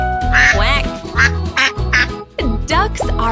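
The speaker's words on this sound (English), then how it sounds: "How do ducks say hello? Quack, quack." A duck quacks in a rhythmic series of bright, nasal calls within a children's nursery-rhyme farm-animal song, loud and close, with a sung or spoken voice mixed in.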